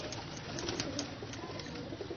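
Ali-wala and other pigeons in a netted Lahore loft keep up soft, overlapping cooing, a low steady burble with a few faint sharper notes.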